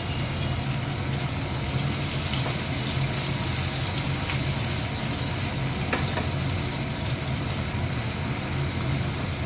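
Chopped onion fries in oil with cumin, giving a dense, unbroken hiss that holds at an even level the whole time, close and fairly loud.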